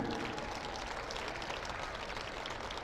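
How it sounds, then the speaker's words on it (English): Crowd applause at a women's college basketball game in a gym, a faint, distant, continuous patter of clapping under a broad hum of arena noise. "Let's have a round of applause for the MSUB Foundation."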